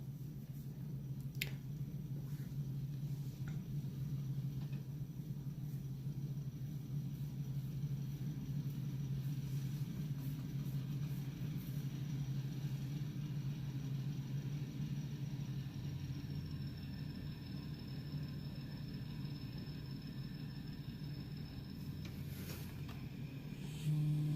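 Locomotive engine in a train simulator game, a steady low rumble holding throughout with a constant mechanical drone, loud and continuous with no talk.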